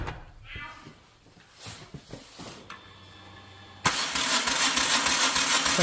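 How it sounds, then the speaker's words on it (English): A 2-liter interference engine with a broken timing belt cranks over in a workshop, a few uneven bursts and clunks followed by a loud, fast, steady starter whir that spins without the engine catching. "go start the engine again"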